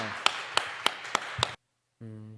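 Five sharp, evenly spaced claps ring out in a church congregation, loud and close, then break off into a short silence before a steady tonal sound begins.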